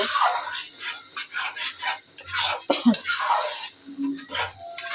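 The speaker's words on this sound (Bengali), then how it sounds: "এখন মশলাটা আমি একটু ভালো করে কষায় নিব।" Spice paste with Kashmiri chilli powder and turmeric being stir-fried in a pan, giving steady scraping and stirring scrapes with light clinks of utensil on metal, close and continuous without talk.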